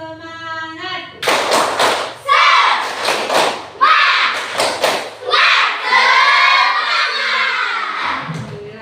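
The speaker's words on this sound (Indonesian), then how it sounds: "Tepuk semangat!" A classroom of students performs a rhythmic spirit clap, short bursts of loud, close group clapping in patterned beats alternating with chanted voices, with a teacher's voice leading at the start.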